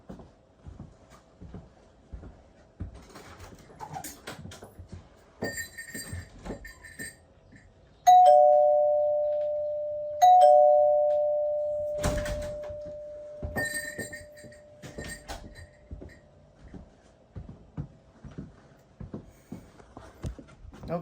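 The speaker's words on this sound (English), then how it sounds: "Okie dokie, there we have it. I have a doorbell now." A newly installed doorbell rings twice, each press giving a loud, sustained chime tone that slowly fades, set among scattered handling clicks and knocks nearby.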